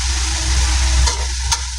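Chicken pieces sizzle steadily in hot oil in a pan while being fried for pepper chicken, a continuous close hiss with a couple of brief sharper crackles and no talking.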